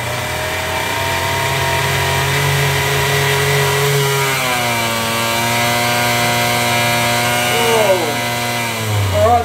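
A Galaxy 125 race engine runs steadily at about 7,500 RPM, a loud, continuous buzzing drone that shifts pitch slightly midway and again near the end, with no talk over it.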